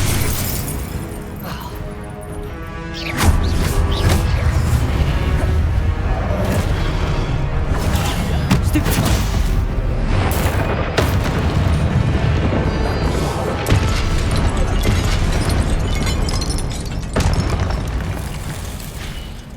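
Spell blasts and explosions in the Hogwarts Legacy video game, a dense run of booming bursts and crashing impacts layered with game music, loud and nearly continuous for about twenty seconds, with faint voice snippets in places.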